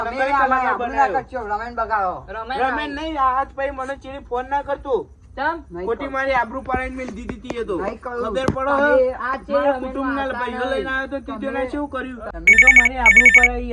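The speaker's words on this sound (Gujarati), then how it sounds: "એ ફોન આવ્યો" A telephone rings with a brief burst of repeated electronic tones near the end, following loud, lively talk among several people in a Gujarati comedy skit.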